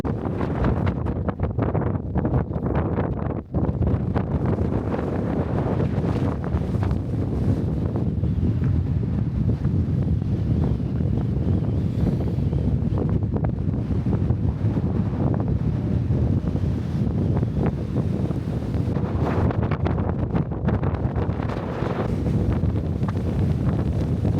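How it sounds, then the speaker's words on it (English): Strong wind on a mountain roars and buffets continuously against the microphone, loud and unbroken throughout. "It is extremely windy"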